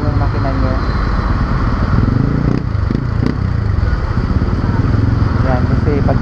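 Motorcycle engine kept running through deep floodwater during Typhoon Enteng in 2024, a steady loud rumble with splashing and rattling throughout, while a person talks over it.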